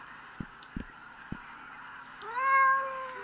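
Cat meowing in the horror adventure video game Sally Face, a drawn-out, rising meow near the end following a few soft thumps, fairly close and clear with no talk over it.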